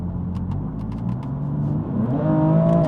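A BMW M4 Competition in M1 mode accelerates hard, its engine note climbing in pitch and growing louder near the end over a steady road rumble.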